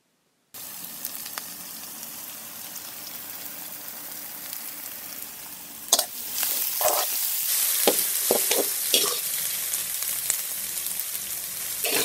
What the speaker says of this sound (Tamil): கொஞ்சம் எண்ணெய் விட்டு கடுகு, வெங்காயம் இதெல்லாத்தையும் நல்லா பச்சை வாட போக வதக்கி